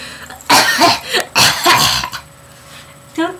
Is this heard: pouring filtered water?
no